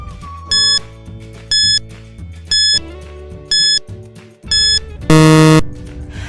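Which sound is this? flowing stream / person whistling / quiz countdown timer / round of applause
quiz countdown timer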